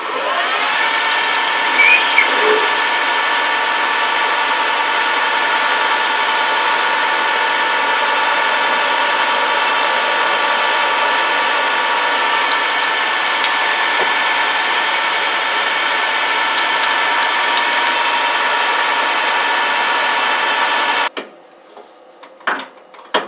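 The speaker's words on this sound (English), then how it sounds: "we're just going to be drilling holes here" A machine tool drills holes in a No 6 shell reamer arbor, with a steady whining drone that runs unbroken for about twenty seconds, then cuts off, leaving a few faint knocks and shop sounds.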